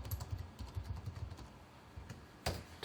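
Quiet, rapid keystrokes on a computer keyboard as router configuration commands are entered, a dense patter of soft clicks with a brief sharper burst near the end.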